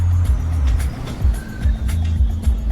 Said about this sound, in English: Don't worry, it's just a traffic jam.